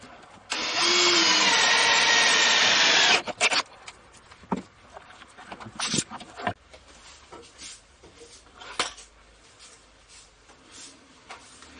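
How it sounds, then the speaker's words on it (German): A power drill boring a 20 mm hole for a plastic tank fitting on a garden biogas build, a loud steady whir lasting about three seconds, then scattered clicks, taps and handling knocks. "Und los geht's, ein 20 mm Loch."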